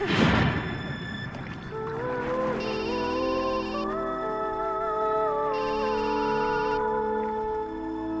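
A phone ringtone for an incoming call plays loud and close, a melodic electronic tune with repeating chimes, after a brief knock at the start.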